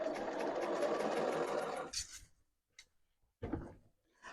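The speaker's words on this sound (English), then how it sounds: "I'm going to sew this again." A sewing machine runs steadily for about two seconds, stitching the seam of an A-line dress (New Look 6263), then stops; a few light clicks and a short burst of handling noise follow, with no talk.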